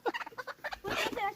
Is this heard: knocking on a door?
no